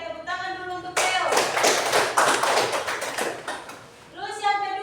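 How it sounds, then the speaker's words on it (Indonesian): A class claps for a student named Leo in a short burst lasting about three seconds. A teacher's voice is heard just before and just after the clapping. "tepuk tangan dulu untuk Leo"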